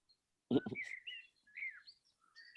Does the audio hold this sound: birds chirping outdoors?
yes